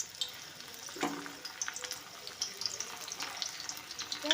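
Raw green banana slices dropped a few at a time into hot oil in a kadai, giving a light, uneven crackle with watery splashes and small bursts rather than a full steady sizzle.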